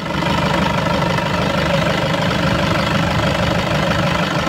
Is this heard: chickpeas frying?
no